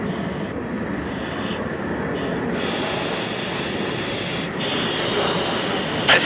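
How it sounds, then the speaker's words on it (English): In the video game Battlefield 3, a fighter jet turns onto an airfield runway, its engine giving a steady, fairly loud roar and whine that swells slightly toward the end. "Reaper 1, you got another fighter turning onto the runway now"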